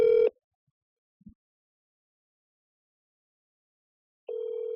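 Outgoing phone call ringing: a short tonal ring burst, a long silent gap with a faint click, then the next ring starting, clean and electronic over a dead-quiet line.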